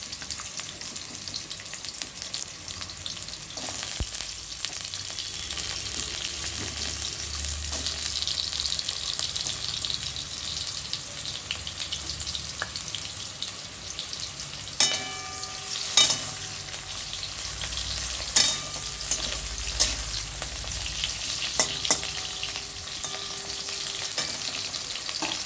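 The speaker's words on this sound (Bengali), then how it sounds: "তেলটা খুব ভালো করে গরম হলে আমি দিয়ে দেব আলু।" Thinly sliced potatoes frying in hot oil, a dense steady hiss of sizzling throughout with occasional clinks and scrapes of stirring around the middle, close and without voices.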